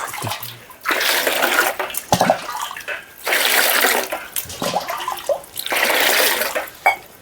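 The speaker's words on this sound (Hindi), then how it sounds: "अब पात्र में जल डालें।" Water pours into a vessel during a home Hindu ancestral offering ritual, coming in three loud, steady splashing bursts separated by brief pauses.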